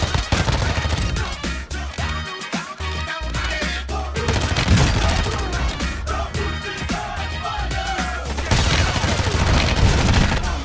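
Rapid bursts of automatic gunfire and shots from a Warzone 2 firefight, loud and continuous over game music and effects, with players talking over the action.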